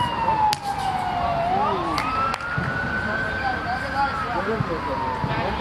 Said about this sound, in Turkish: ambulans geçiyor